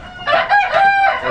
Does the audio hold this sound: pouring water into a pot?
no